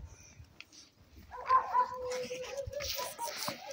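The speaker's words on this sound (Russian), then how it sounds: "Вот кому собака, собака-пес, кому надо?" A dog close by gives a few sharp barks and yips, then a whimpering whine that trails on, with faint background noise around it.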